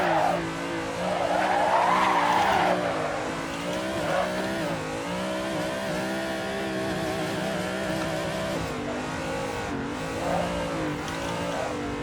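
A race car driven around a track in the sim racing game Assetto Corsa, with a steady engine drone, shifting revs and long tire skids and squeals, fairly loud and free of talk.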